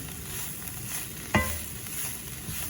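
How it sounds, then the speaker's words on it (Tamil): Beetroot and onion frying in a pan are stirred with a steady low sizzle and one sharp clatter of the spoon against the pan midway, with no voices. "அதில் சும்மா சேர்ற மாதிரி கிளறினா சரி"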